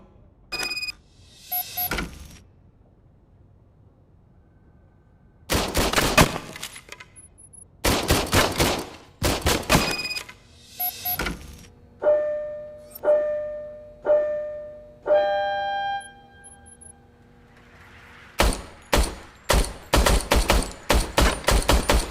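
An old, poorly maintained service handgun from Robocop Rogue City fires in sharp, loud bursts: a few scattered shots, then several rapid volleys with ringing metallic tones between them. The clip ends on a fast string of shots.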